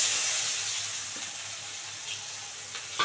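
Chopped onions dropped into hot oil already tempered with cardamom and cinnamon, a bright steady sizzle and frying hiss close by, with a few light clicks of stirring near the end and no talk.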